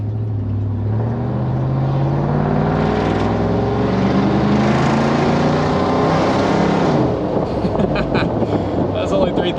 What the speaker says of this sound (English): Just literally glorious, aggressive V8 goodness.